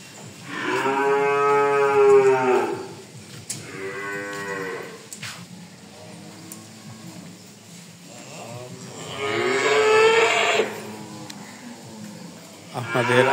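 Calves at a government cattle farm moo repeatedly, loud and close, in long drawn calls with pauses between, one overlapping another near the end.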